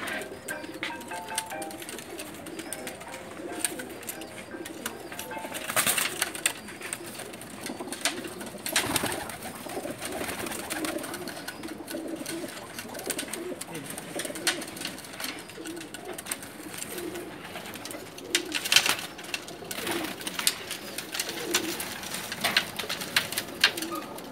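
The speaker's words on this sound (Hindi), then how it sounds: "थोड़े कबूतर घबरा रहे हैं और डर रहे हैं" Sialkoti pigeons held in a net coo in soft, low murmurs with occasional bursts of fluttering wings, a restless, frightened flock heard nearby without any talking.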